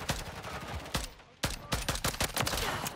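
Rapid gunfire from a weapon in Modern Warfare 3, a video game, cracking in dense bursts of shots with a brief pause near the middle, loud and close throughout.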